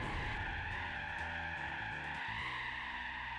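Tyres screech in a long, steady skid as a car spins out during a Gran Turismo 4 race, the squeal holding loud and continuous over a low engine drone throughout.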